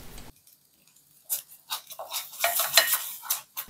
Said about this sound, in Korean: 된장 소스를 볶는 시간은 1분에서 2분, 그 정도가 제일 적당합니다.